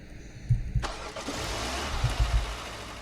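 A car engine cranks with a few low thumps, then catches and settles into a steady running rumble, close by with no talk.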